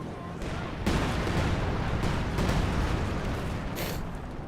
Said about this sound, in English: Some sort of artillery there. I think that's the Panzer artillery,